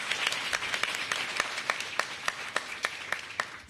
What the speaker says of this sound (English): Give them a round of applause in advance.